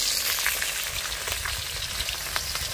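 A katla fish head fries in a pan, with close, steady crackling and sizzling hiss throughout and no voices.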